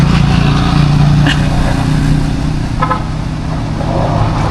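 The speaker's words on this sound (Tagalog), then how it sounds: "Ay, sasakyan." Steady, loud engine drone of a car going by close on a road during a beach day trip in Elyu, a continuous rumble with no talk on top.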